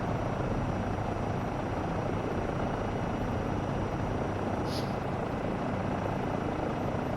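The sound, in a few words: helicopter rotor in Microsoft Flight Simulator 2024 video game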